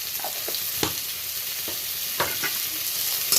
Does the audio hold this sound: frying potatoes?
yes